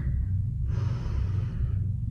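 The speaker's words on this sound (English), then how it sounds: "We're breathing in through the nose." A deep breath drawn in through the nose during a full-body stretching routine, one long airy inhale in the middle of a low steady background hum.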